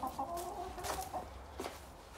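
Chickens cluck softly near a 1982 Ford F150, a few short clucks and murmurs over a couple of seconds.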